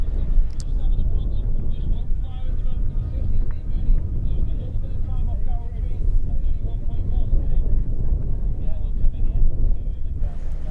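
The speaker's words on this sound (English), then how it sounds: "here is the first of those riders, number 5, David Lumsden, on the Martin Bullock Manxport Kawasaki" A Kawasaki racing motorcycle in the Manx Grand Prix lightweight race approaches with a loud, continuous engine roar and wind buffeting. A commentator talks over it throughout.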